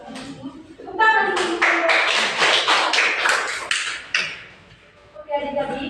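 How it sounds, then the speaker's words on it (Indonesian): Children in an Indonesian primary school science lesson clap their hands together in a dense burst of about three seconds, with a voice heard before and after the clapping. "Tepuk tangan."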